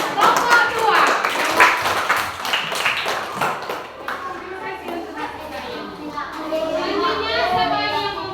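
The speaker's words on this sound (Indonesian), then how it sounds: "Tepuk tangan untuk kelompok 2." Classroom children clapping for a group of classmates, a busy patter of many small hands mixed with lively children's chatter and voices throughout.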